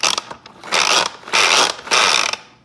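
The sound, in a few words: food processor spinning mechanism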